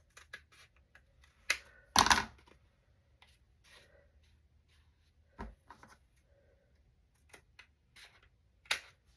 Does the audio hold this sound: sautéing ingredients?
no